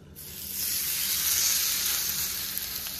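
Tilapia pieces searing in a hot pan: a sharp hiss swells quickly after a brief quiet start into a steady, close, bright sizzle that holds for the rest of the moment.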